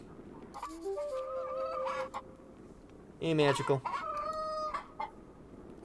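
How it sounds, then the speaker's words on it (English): A video-game chicken clucks and crows in two bursts over a faint steady background, with a brief spoken remark in between. "Do you need that chicken anymore?"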